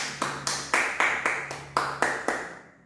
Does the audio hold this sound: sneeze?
no